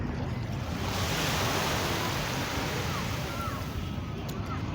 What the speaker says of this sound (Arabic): بصوا بقى البحر